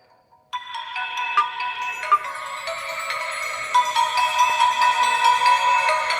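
A melodic ringtone from an Axgio Neon N2Q smartphone starts abruptly after a brief pause and plays continuously through its own speaker, bright and slightly tinny.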